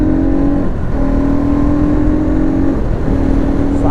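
A Bajaj Pulsar NS200 motorcycle engine revs loudly and close, holding a steady drone that drops briefly and climbs back, with no talking over it.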